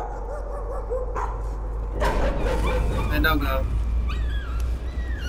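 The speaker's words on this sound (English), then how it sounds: "Oh, puppy!" A puppy yips, whimpers and gives short barks in bursts over a steady low hum, with people talking over it at times.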